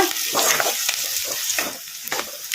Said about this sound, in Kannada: ಉಳ್ಳಾಗಡ್ಡೆ ಒಂದು ಸ್ವಲ್ಪ ಫ್ರೈ ಆಗೋವರೆಗೂ ಫ್ರೈ ಮಾಡ್ಕೊಂಬಿಡೋಣ ಈ ಥರ ಕಲಸ್ಕೊಂತ